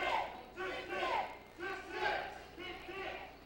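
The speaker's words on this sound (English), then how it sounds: "Crowd firmly behind Red with the cries of tick, tick." A wrestling crowd at an NWA Wildside match chants a rhythmic two-beat cry in four loud repeated bursts, voices massed together and filling the arena.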